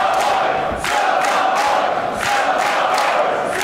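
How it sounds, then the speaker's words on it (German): A wrestling arena crowd at a live tag-team show roars and cheers continuously, loud and dense, with rising swells of shouting throughout. "Natürlich das Publikum wie ein Mann hinter dem Surferboy."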